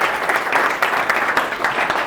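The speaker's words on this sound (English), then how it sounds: "Please give a big round of applause to a speaker from tonight." An audience at a .NET developer meetup applauds the evening's speaker before a technical talk on Model Context Protocol with C#, producing dense, steady clapping from many hands that fills the room for a couple of seconds.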